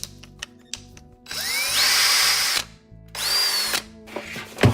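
A DEWALT 20V Max compact cordless drill/driver (DCD771C2) runs in two bursts under the trigger, its motor whining up in pitch and then spinning down, with short clicks and handling knocks between the runs.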